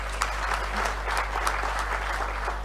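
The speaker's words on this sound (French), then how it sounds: "Veuillez l'applaudir aussi." An audience at an ophthalmology congress in Kinshasa gives dense, continuous applause, a broad wash of many hands clapping together, steady and fairly close over a low electrical hum.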